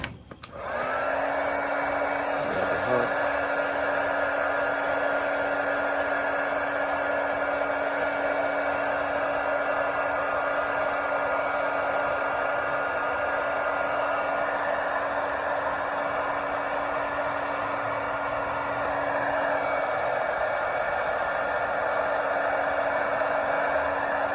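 A heat gun shrinking heat shrink tubing during an electric skateboard build, a loud steady blowing roar with a constant whine that runs unbroken from start to finish.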